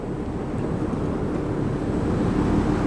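Two Sturtevant Size 8 Design 5 propeller fans run together at about 320 to 330 RPM on 50 hertz power, giving a steady, loud, broadband rushing roar that never varies, with no talking.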